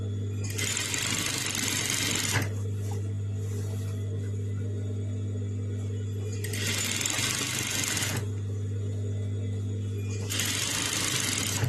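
A sewing machine stitches around a skirt hem in three rapid whirring bursts separated by pauses, close and clear, with quiet background sound in the gaps.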